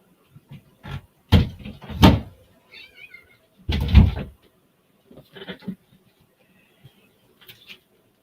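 A tuxedo cat gives a few short, scattered meows, with other brief bumps and knocks around them at moderate volume and no talking.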